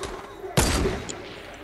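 Gunfire in the Fortnite video game: a sudden loud burst of shots hits after a quieter start, followed by a dense rattling stretch of fire that fades into softer game noise, with a faint voice in the background.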